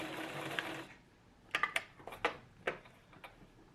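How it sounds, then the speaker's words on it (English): A home sewing machine stitching a locking back stitch on a fitted fabric face mask, a short run of mechanical whirring followed by several distinct ticking clicks and taps, close and fairly quiet. "I'm going to do that locking back stitch"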